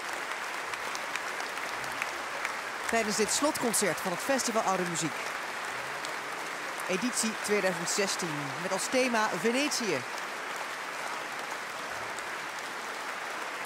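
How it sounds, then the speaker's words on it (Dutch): Applause from a packed large concert hall at Tivoli Vredenburg in Utrecht, closing an early-music festival concert, runs steadily throughout as a dense background wash beneath someone speaking. "Het applaus van een overvolle grote zaal van Tivoli Vredenburg in Utrecht."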